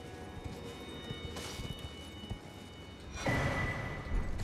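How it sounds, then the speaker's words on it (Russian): Horse hooves galloping in the video game Elden Ring, a steady run of clip-clop beats under a continuous game ambience, fairly close and moderately loud. "а теперь можно на лошади ездить, и все хорошо"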